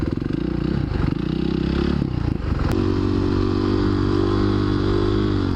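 A Supermoto motorcycle on a commute, its engine droning steadily with shifting pitch, a gear change or rev shift partway through, plus some clatter and scraping, with no talk.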